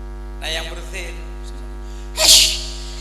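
A single sharp sneeze bursts out near the end over a steady electrical mains hum, preceded by softer breathy vocal sounds, in a recorded religious talk.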